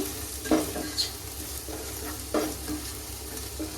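Egg masala fry ingredients with salt sizzle steadily in a pan, with occasional scraping stirs over the constant frying hiss and no speech.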